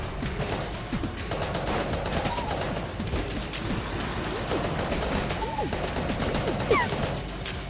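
Dense, continuous volleys of gunfire in the bullet-hell game Enter the Gungeon, with rapid overlapping shots and mechanical clatter running steadily throughout at close range.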